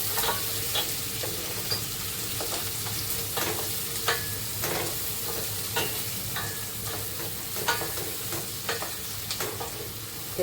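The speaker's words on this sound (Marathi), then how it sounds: "कांदा शिजवून घ्यायचा" Onion cooking in oil in a pan as the base of a dried bombay duck masala gravy: a loud, steady sizzle with frequent scraping stirs of a spatula and no talk.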